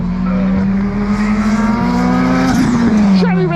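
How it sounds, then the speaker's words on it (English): A Mitsubishi Evo and an RX-8 race on track at Anglesey in a time attack round, with a loud sustained engine drone that shifts pitch as the cars pass and brief tire squeal, while a commentator talks over it. "look at Darwood in the Mitsubishi Evo, followed by the RX-8"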